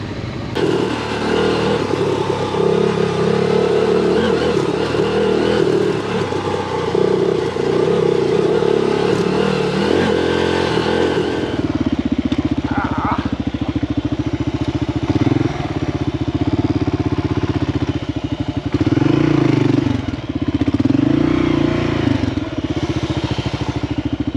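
A Kawasaki KLR650 motorcycle stuck in a rut on a narrow forest trail, its engine loud and close, revving hard and sustained, then dropping to a rougher, pulsing labor as the wheel struggles.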